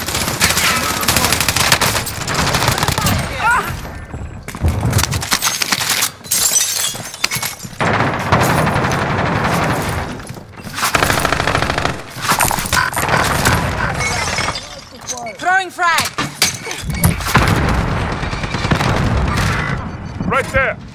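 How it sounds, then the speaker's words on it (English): Video game combat with bursts of heavy gunfire, high-caliber rounds and breaking, shattering impacts, loud and chaotic in clustered volleys separated by short gaps, with players talking over the action. "High caliber round. Under fire."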